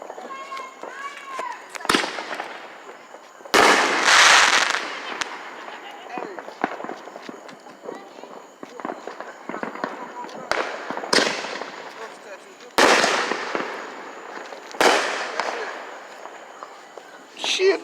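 Backyard fireworks and firecrackers go off in a series of sharp, loud bangs and crackling bursts at irregular intervals, with people talking and shouting between the blasts.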